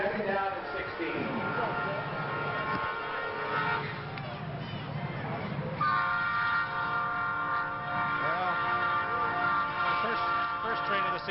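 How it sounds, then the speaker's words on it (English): A train passes near a small-town high school football field, a long rumbling roll of rail cars with a sustained horn blast and a bell, loud and continuous under an announcer's talk. "First train of the season came through on a timeout."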